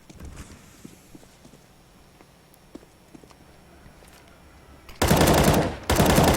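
Counter-Strike gunfire: after quiet game ambience with faint ticks and footsteps, two loud, dense bursts of sprayed automatic fire crack out close at the end.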